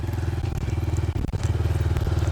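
Honda CRF 125 motorcycle engine putters at low throttle in a steady pulsing rhythm, close and continuous, with a brief dip and clunk partway through as the bike pulls away.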